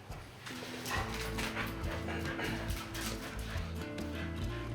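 Several dogs whimper and whine close by amid shuffling and faint sounds of eating puppy food, with occasional yips over a steady low rumble.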